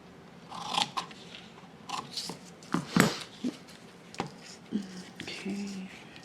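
Scissors snip through collage paper in a run of short, separate crunchy cuts at close range, with faint rustling between them and no speech.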